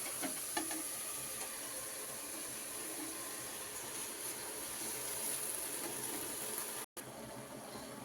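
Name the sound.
sautéing greens with turmeric in a pan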